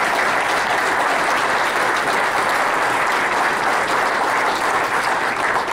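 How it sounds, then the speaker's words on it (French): Loud, sustained applause from a large audience at an innovation competition finale in Quebec, a dense, even roar of clapping with no pauses for nearly six seconds. "je pense qu'on devrait tous en donner une"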